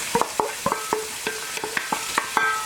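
Chopped onions, celery, carrot and jalapeno hitting hot oil for a chicken tortilla soup, heard as a run of close stirring clinks and scrapes over a faint sizzle, spaced irregularly throughout.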